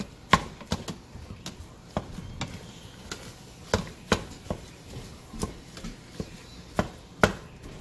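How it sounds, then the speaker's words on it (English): Repeated sharp chopping knocks against a pan as ground beef browns with onions, irregularly spaced every half second or so over a low background, with no talking. "chopping it up and making it brown with the"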